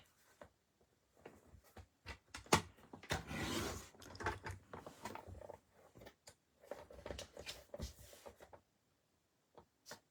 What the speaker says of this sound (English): the vellum, and it seems a little large to me, and let's trim it down just a tingy.